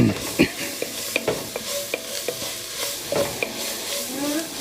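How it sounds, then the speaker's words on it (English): A spoon stirs sizzling food in a pot seasoned with black pepper, ahead of adding red beans for rice. Clear, close clinks and scrapes repeat irregularly over a steady, soft frying hiss. "give this a little stir"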